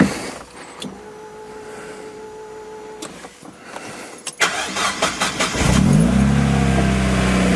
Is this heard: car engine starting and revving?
yes